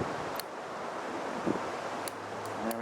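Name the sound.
wind blowing outdoors on a windy day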